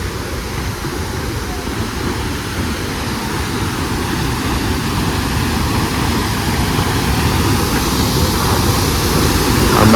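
A powerful jungle waterfall at Munnar roars as a dense, continuous rush of water, loud and close, swelling slightly toward the end with no voices over it.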